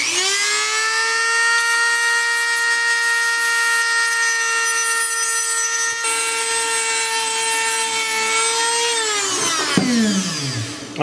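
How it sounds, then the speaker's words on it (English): Dremel rotary tool grinding a beaten-down lip off the top edge of a meat cleaver, a loud steady high whine with strong harmonics that holds about nine seconds, then winds down as the tool spins off. "We're just going to use the little Dremel tool."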